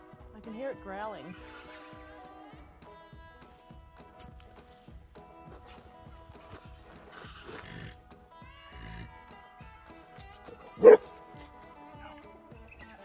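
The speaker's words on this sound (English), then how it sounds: "I can hear it growling." A dog on a hunting trip yips and whimpers at close range with low growling sounds, while people talk quietly and one sharp bark-like burst stands out near the end.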